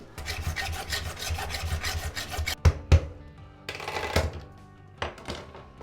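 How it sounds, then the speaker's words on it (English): A plastic toilet pan collar being sawn off, giving steady rasping strokes for a few seconds, then two sharp knocks, a short pause and more bursts of close, gritty cutting. No one speaks. "So we're going to have to cut this here pan collar off."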